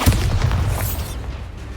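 Bombarda blasting spell in a Harry Potter video game, a single deep booming explosion that hits at once and then rumbles and fades away over the following second or so.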